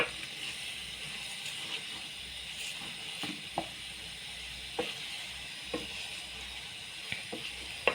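Spaghetti and its ingredients stirred in a hot pan, a steady sizzle and fry with scattered light scraping clicks of the utensil against the pan, close and alone.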